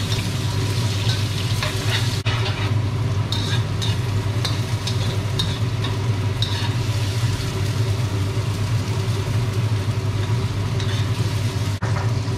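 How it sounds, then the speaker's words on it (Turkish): Mushrooms frying in a pan in two batches for a Yunnan-style potato and mushroom stir-fry with mint, a steady close sizzle running throughout with occasional scraping stirs. "Mantarları da patatesler gibi iyi kızarsınlar diye 2 grup halinde kızartıyorum."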